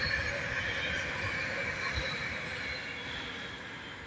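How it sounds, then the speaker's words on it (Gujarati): A train rolls past at a station in London, its wheels squealing in sustained high tones over a continuous rumble, moderately loud and steady, with no talking. "એક ગઈ ટ્રેન"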